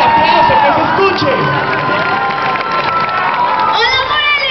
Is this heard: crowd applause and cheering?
yes